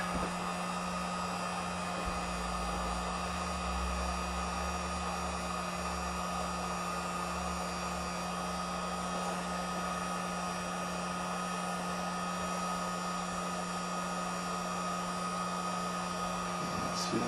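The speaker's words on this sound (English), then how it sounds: "we'll turn on the air for a little bit and heat these two up here" A hot air blower runs steadily for the whole stretch, heating parts while installing a 250W automotive LED spot light in a truck engine bay. It gives a constant loud whooshing hiss over a low hum, with no talk.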